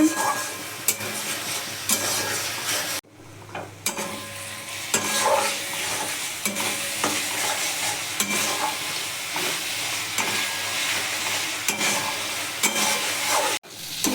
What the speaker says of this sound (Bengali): মশলাটা এখন কষানো চলছে